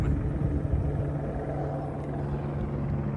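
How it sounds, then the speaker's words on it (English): A helicopter passes overhead during a Halloween decor livestream, its low, steady rotor rumble droning continuously at moderate distance with no talk. "although we have a helicopter at the moment."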